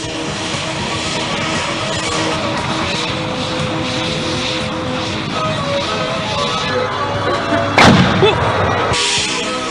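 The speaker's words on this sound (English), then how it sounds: "This is how a pipeline break is imitated and how the fire extinguishing installation Impulse copes with it." Impulse fire extinguishing installation discharging at a simulated gas pipeline break, a steady loud roaring rush throughout, with a sharp burst near the end.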